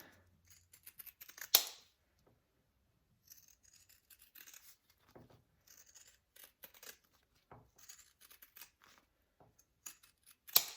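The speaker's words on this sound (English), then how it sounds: "I am going to use my little pinking shears here" Small pinking shears snip through fabric for a bag project in a quiet room, giving a few soft, scattered cutting clicks with two louder snips standing out.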